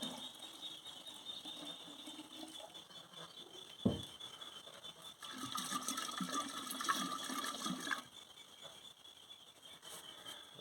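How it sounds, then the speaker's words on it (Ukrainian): Water poured into dark homemade kvass to lighten it, a steady trickling and splashing that swells louder midway with a sharp knock near the start, heard alone without talk. "Доливаємо воду."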